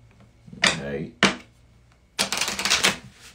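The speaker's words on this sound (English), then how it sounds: "let's see what the opening oracle card is today as I shuffle here" Oracle cards being shuffled by hand in a few quick, crisp riffling bursts, close and fairly loud, with a pause between the bursts.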